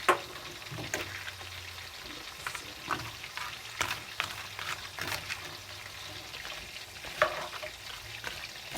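Seasoned fish and vegetables sizzle in a pan while a utensil stirs them, with repeated scraping, clattering strokes over a steady, moderate frying hiss.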